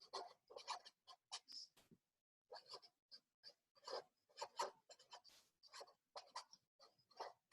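Quiet, close scratchy strokes of handwriting as a glossary definition is written out, coming in short bursts with brief pauses between words.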